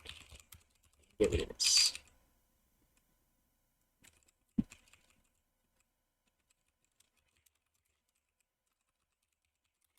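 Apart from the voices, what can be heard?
typing code on a computer keyboard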